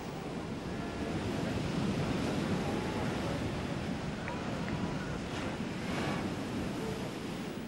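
Surf breaks on an open beach during a surf lifesaving carnival, a steady roaring wash of waves with heavy wind buffeting the microphone and faint distant tones.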